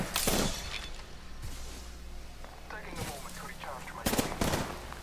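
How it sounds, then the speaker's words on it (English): Gunfire from Apex Legends gameplay, with sharp bursts of shots near the start, around the three-second mark and again near the end, set over a steady game background hum. "So I'm getting shot at."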